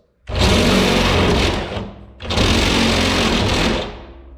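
A long drill bit boring a hood pin hole in a 1966 Mustang hood: two loud, close bursts of steady whining drilling, each about one and a half seconds, separated by a short pause.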